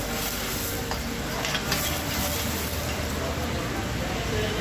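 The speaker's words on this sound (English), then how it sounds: "saute the lobster" Lobster pieces sautéing in a hot pan give a steady, close hiss of sizzling with faint stirring and scraping, and soft voices murmur underneath.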